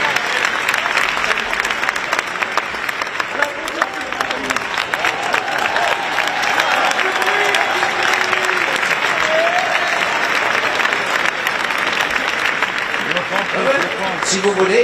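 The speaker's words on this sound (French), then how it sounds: "On l'applaudit bien fort" A crowd at a Paris 2024 Olympics countdown event applauds loudly and continuously for about fifteen seconds, with a voice briefly audible through the clapping.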